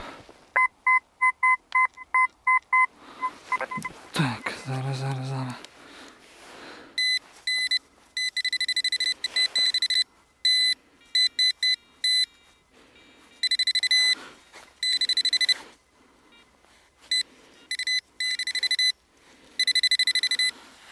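A metal detector searching a field for coins emits bursts of electronic beeping, first short regular pulses, then longer warbling tones that start and stop repeatedly, loud and close.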